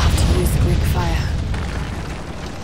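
A Greek fire vessel explodes in Rise of the Tomb Raider on Xbox One, a loud, deep rumbling boom that holds for a couple of seconds and slowly fades, with faint voice-like sounds inside it.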